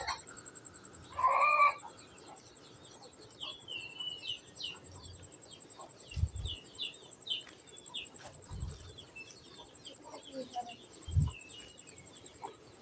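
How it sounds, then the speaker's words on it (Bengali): Pigeons flock in to eat scattered feed, with a few low throaty coos spaced several seconds apart among light chirps and rustling, nearby and soft. "এই যে আমার কবুতর এসেছে খাবার খাওয়ার জন্য"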